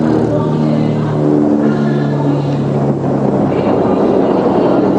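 Dornier transport aircraft of 41 Squadron roar past overhead in a Republic Day flypast over Delhi, a loud, steady, broad engine drone with wind buffeting and no talk.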